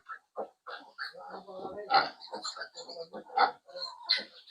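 A sow and her five piglets grunt and squeal close by in short, busy bursts, a dense jumble of overlapping snorts with frequent pauses.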